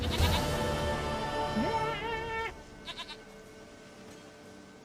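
A goat in The Witcher 3 lets out a loud, wavering bleat that climbs and quavers for about two seconds, then trails into quieter game ambience with a few faint clicks.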